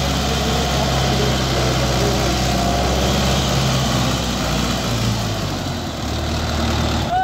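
A Hindustan 60 tractor engine pulls hard, giving a loud, continuous, rumbling drone that stays close and steady with a slight dip near the end.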